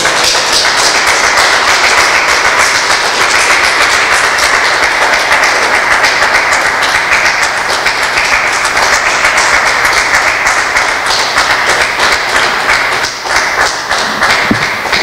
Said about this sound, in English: he deserves a tremendous round of applause